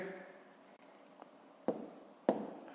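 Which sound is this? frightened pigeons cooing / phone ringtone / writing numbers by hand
writing numbers by hand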